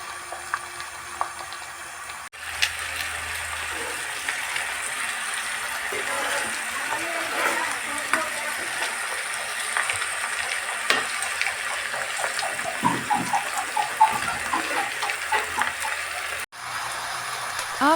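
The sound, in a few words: pork frying in earthen pan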